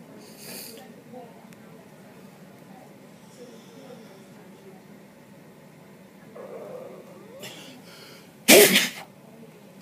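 A single sharp sneeze bursts out loudly near the end, close and abrupt, after quiet room hum and faint voices on a surgery day.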